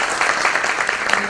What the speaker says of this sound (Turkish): Yönetim Kurulu Başkanımızı alkışlarla uğurluyoruz